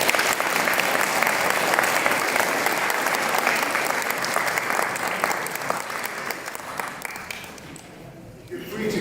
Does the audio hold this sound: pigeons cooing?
no